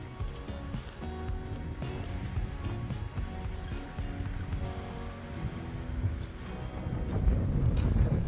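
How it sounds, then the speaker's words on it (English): Strong wind buffets the microphone high on a Sierra Nevada mountain peak near Rose Knob, a steady low rumbling roar that builds louder toward the end, with no talk. "You hear that wind? I'm having a hard time keeping hold of this hat. It is so windy."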